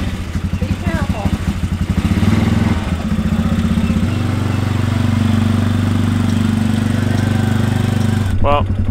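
A four-wheeler ATV engine runs close and loud in rural North Georgia, a steady rhythmic chugging that revs up and settles into a throbbing idle, with voices talking briefly over it.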